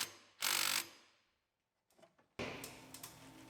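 A ratchet tightens the steering shaft bolt on a Chevy Silverado with a Duramax engine: a short burst of ratcheting clicks, then quiet, a few faint clicks, and a louder sustained mechanical clatter close by.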